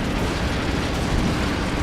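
A loud, dense tank cannon blast from the video game Codename: Panzer Phase One, a sustained low rumbling boom filling the whole moment with no pause.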